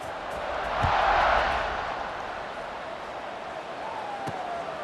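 Football stadium crowd roaring before a kickoff, a broad swelling cheer that peaks and then settles into a steady distant murmur, with a whistle-like tone near the end.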